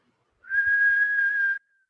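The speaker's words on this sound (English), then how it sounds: "exhale from the mouth, keeping your mouth, lips pursed," A single steady whistled tone about a second long, made by breathing out through pursed lips, with silence before and after.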